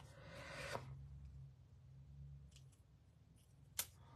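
Shadow box frame material being cut: a brief, faint cutting rasp early on, then quiet, with another short snip near the end.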